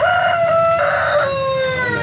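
Brahma chickens in a backyard coop: a rooster crows loudly and nearby, with hens clucking and a second crow overlapping, all close and clear with no talk.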